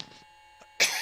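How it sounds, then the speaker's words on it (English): A single sharp cough bursts close to the microphone after a near-silent pause, loud and abrupt, during an Alaskan bush flight simulation session with a pre-flight annunciator check. "Sorry for coughing in your ear."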